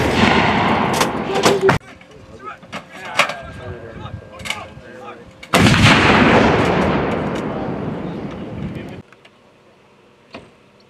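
U.S. Marine artillery fires during range training in Japan: several loud, close cannon blasts with long rumbling decay, separated by quieter gaps where people talk.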